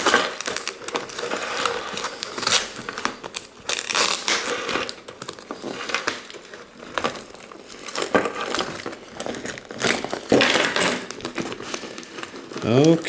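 Newspaper packing crinkles and rustles as it is unfolded during an unboxing, in uneven bursts of close, crisp crackling with short pauses between handfuls.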